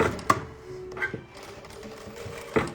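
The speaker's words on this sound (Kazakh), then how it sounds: "Ортасынан бір тігіс жүргізіп аламыз." Sewing machine stitching a seam through patchwork fabric, close and fairly loud, with short mechanical bursts and clicks between quieter stretches.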